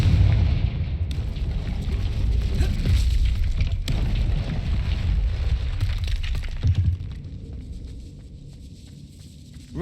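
A Confringo fire spell explodes in the fantasy game Hogwarts Legacy, producing a loud, rumbling blast with crackling debris that sustains for several seconds before dropping away to a quieter tail.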